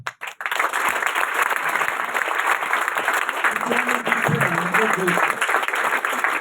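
A crowd bursts into sustained applause, dense and fairly loud clapping that starts abruptly and holds steady throughout, with a faint voice briefly surfacing partway through.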